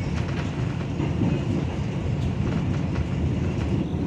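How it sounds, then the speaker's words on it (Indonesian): The KA Singasari passenger train departs Karawang station, heard from aboard as a continuous low rumble with rhythmic wheel clatter on the rails, steady and fairly loud throughout. "KA Singasari kembali diberangkatkan dari stasiun Karawang jam 5 lebih 17 menit."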